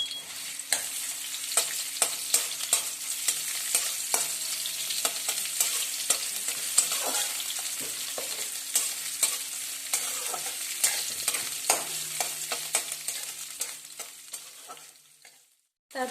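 Ginger, chilli and capsicum are stir-fried in a pan for a whole-tomato dish, a soft continuous sizzle broken by repeated sharp spatula scrapes and clicks that fade toward the end.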